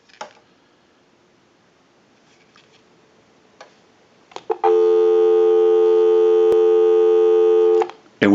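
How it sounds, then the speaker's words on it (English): A Western Electric 554 rotary wall telephone gives a few faint clicks, then a loud, steady dial tone that holds for about three seconds before cutting off sharply. "We'll go ahead and give you some dial tone."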